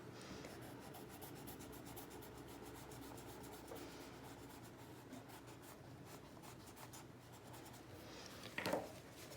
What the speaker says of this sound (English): So I'm gonna use my eraser